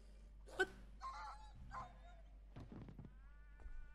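Dog in the horror video game Hazing: Night Shift, a few brief, faint whimpers and yelps spaced across a quiet stretch, with soft thumps between them.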